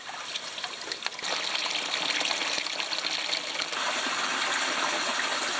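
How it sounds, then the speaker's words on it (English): Spring water flowing through a rocky gorge, a steady close rushing trickle and gush that continues without a break, with no voices. "beautiful spring water."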